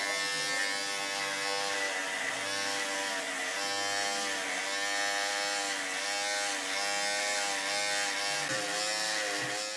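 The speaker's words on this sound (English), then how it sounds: "I just actually replaced the blades on my trimmers right here." A Wahl Detailer Li T-Wide cordless hair trimmer runs close and loud for about ten seconds, a steady buzzing drone whose pitch wavers slightly, with no talking.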